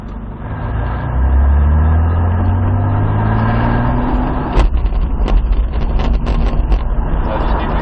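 A Toyota Supra's engine rises in pitch as it accelerates under power, followed by clattering bursts and wind buffeting as the car keeps driving.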